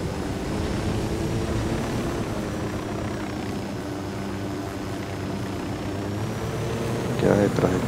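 Helicopter in the video game Ghost Recon Wildlands, a continuous low rotor drone with an engine whine on top, steady and moderately close, ending with a brief clatter.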